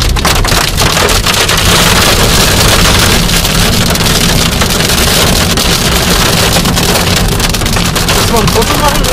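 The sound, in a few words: hail falling during a storm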